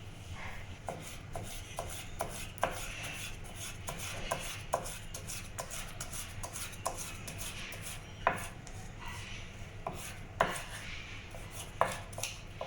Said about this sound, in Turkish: Evet doğrama işlemine devam ediyoruz.